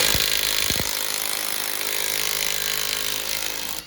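An impact wrench pulls a brake caliper bolt during a front brake service on a Honda CR-V, a steady harsh buzzing rattle that runs loud and close for nearly four seconds before cutting off.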